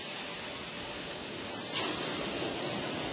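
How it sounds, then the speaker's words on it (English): Space Shuttle Atlantis launch pad sound suppression water system activating: a loud, steady, broadband rushing roar like pouring water that swells slightly partway through, with no voices. "the pressure water system activated"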